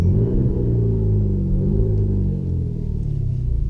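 Deep, loud engine rumble from a 2016 Peugeot 308 GTi in sport mode, steady with slight shifts in pitch as the motor holds and eases its revs.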